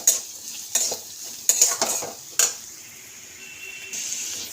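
Vegetables seasoned with turmeric and salt frying in a pan for vegetable upma, with several sharp scraping stirs of a utensil over a continuous close sizzle that settles into a softer hiss.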